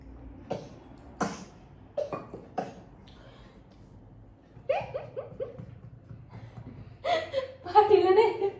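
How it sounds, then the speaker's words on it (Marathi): A small child coughs and sputters after choking on water, a few short bursts up close, followed by adult chatter and a whimpering, laughing child. "ठसका लागलं पोटाला थापडायचं."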